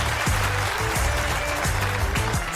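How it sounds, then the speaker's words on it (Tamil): A studio audience on a Tamil TV show claps, a dense, steady burst of applause at close range that continues without a break, with no voices over it. "நல்லா கைத்தட்டுங்கப்பா."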